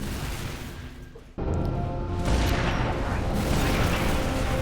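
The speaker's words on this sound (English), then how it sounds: "try not to get distracted by all the explosions and gunfire" Dense battlefield din of explosions and gunfire during the Coastal Highway finale fight of Halo 3: ODST, a sudden loud boom launching a sustained, roaring wash of blasts and shots that stays loud throughout.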